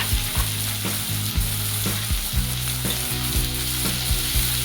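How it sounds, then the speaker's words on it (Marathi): Chopped onion and tomato sautéing in a hot pan for an egg chutney, a loud steady sizzle close up, with repeated scraping stirs and clinks throughout. "कांदा टोमॅटो आपण परतून घेणार आहोत व्यवस्थित"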